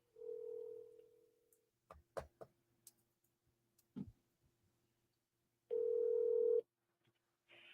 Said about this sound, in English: Oh, Troy, I'm double dialing you.